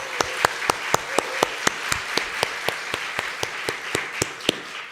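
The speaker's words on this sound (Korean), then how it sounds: "그리고 훈련 간사님들에게 감사의 박수." Church congregation claps in thanks for the training staff at a sending-off service, a full sustained round of crowd applause with distinct loud claps standing out, even and continuous from start to finish.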